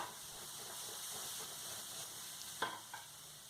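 Mushrooms frying over high flame in a pan hiss and sizzle steadily, with a sharp clack from a utensil near the end, close up and without speech.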